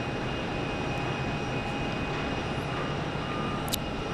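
A SkyWest regional airliner at Phoenix airport gives a steady, broad engine roar that holds at an even level throughout, with no speech.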